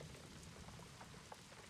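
Steady rain falling on a surface, a dense, even hiss with soft scattered drop patter, moderately quiet and continuous with no voices.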